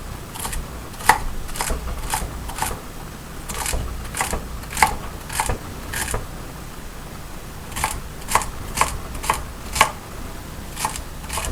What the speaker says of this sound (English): This is dicing.